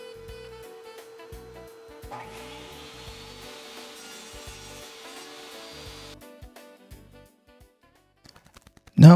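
A one-inch wooden spacer on a handmade wooden cross is cut off with a power tool: a steady whining cut runs for several seconds and stops, followed by a few light knocks and a sharp burst at the very end.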